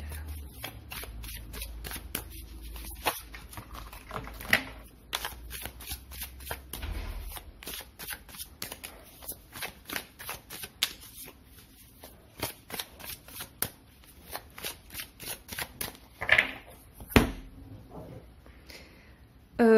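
Tarot cards shuffled by hand, a long stretch of rapid crisp riffling and card slaps repeating in bursts, close and fairly loud, with little talk.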